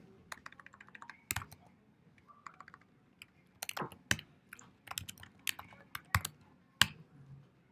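Fingers tap out a command on a computer keyboard, giving sparse, sharp clicks in uneven bursts at close range in a quiet room.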